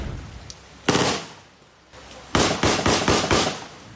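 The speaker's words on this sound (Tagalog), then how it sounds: "Magkakasunod na putok ang uminilingaw-ngaw sa Barangay Danlog, Pilar Sorsogon" Gunfire in an ambush in Barangay Danlog, Pilar, Sorsogon: a single sharp bang followed moments later by a quick burst of several loud cracks in rapid succession, echoing at moderate distance.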